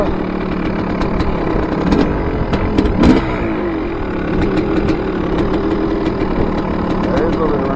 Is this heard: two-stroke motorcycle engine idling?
yes